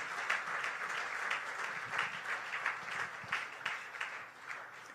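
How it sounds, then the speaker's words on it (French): A church congregation applauding steadily for the full stretch, dense overlapping claps at moderate distance with a few voices mixed in, no break in the rhythm. "Est-ce qu'on peut acclamer pour le roi de rois?"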